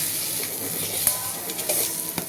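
A steady, close scraping sizzle with a few sharper scrapes as green chili thecha with salt and garlic is crushed and rubbed with a glass on a hot iron griddle just taken off the stove.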